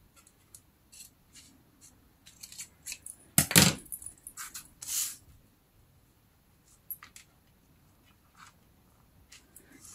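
Scissors snipping a magazine page into a label: a few crisp paper cuts with one louder rustling snip, amid light paper handling and quiet pauses.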